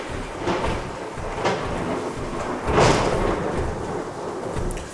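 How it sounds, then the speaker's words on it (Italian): Thunder rumbles during a thunderstorm, a low continuous roll swelling into a louder crack midway, heavy and close with the noise of rain and storm throughout. "Ragazzi, avete sentito questo tuono?"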